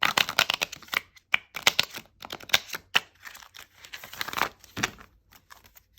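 Tarot cards are shuffled by hand close up, making quick irregular bursts of crisp riffling and flicking with short pauses between them.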